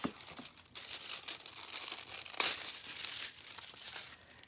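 Foil being cut and handled for an oyster shell craft, a quiet, close crinkling and rustling with sharper crackles and one brief louder crunch partway through, no voices.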